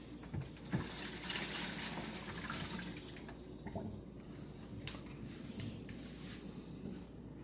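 Noodle cooking water is drained into a sink as a steady, fairly quiet rush of running liquid, with a few soft clanks and drips scattered through it and no talking.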